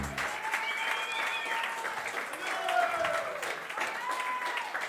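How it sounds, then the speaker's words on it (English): Steady applause from an audience at the GOTY 2024 award ceremony in Cantanhede, a dense wash of clapping with a few faint voices mixed in. "A big round of applause to Francisco Saldanha."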